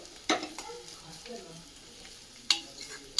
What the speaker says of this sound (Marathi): एक ते दोन मिनटं छानपैकी तेलासोबत परतून घ्यायचं